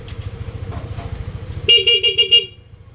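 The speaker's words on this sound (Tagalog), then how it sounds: "stock horn" The stock horn of a Honda Click 125 scooter gives a series of short, loud beeps close by, following a low engine hum.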